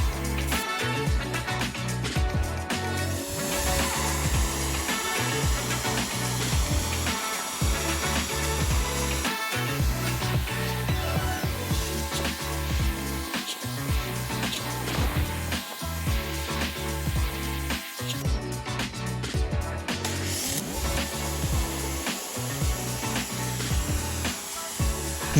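A Cecotec Hydroboost 2500 pressure washer with a red nozzle blasts grime off a low wall, giving a continuous loud hissing spray with a rumbling motor underneath, steady and close for the whole stretch.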